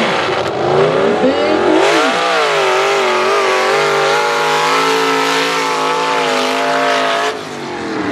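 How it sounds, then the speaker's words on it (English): A Jeep engine roars and revs hard through a mud race run, loud and sustained, with rising and falling engine pitch, close by, with no talk over it. "Good run, a good sounding Jeep there, Mr. Eddie Benefit."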